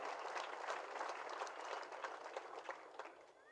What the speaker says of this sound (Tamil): உங்களுடைய கைத்தட்டல் மூலமாக அவருக்கு உங்களுடைய ஆசீர்வாதத்தை கொடுங்கள்